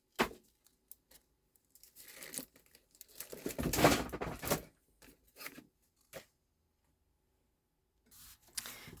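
Scissors snip and rustle close up as a stamped paper flower is fussy cut, with scattered short crinkling bursts and paper handling, a denser flurry of cuts midway, and quiet gaps between.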